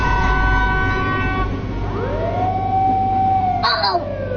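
A police car siren rises and sweeps in long wailing tones over a loud, constant vehicle drone, with a short sharp horn-like blast near the end.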